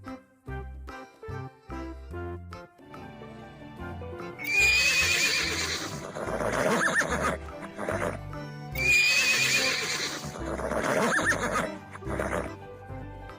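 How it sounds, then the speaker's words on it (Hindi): A horse gives two loud, shrill whinnies a few seconds apart, each with a fluttering tail, over cheerful background music. "horse,"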